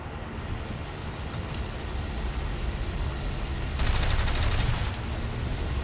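A Yak-1 fighter's nose-mounted cannon and machine gun fire in a War Thunder air battle, a steady rattle under a constant engine drone that swells into a louder burst near the end.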